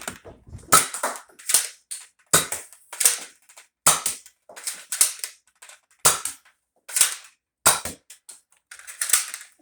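Toy blaster fired in a demo, either a Cobra RC6 or an X-Shot Royal Edition Reflex 6 in gold, giving about eight sharp, loud cracking shots at a steady pace, each with a brief rattling tail.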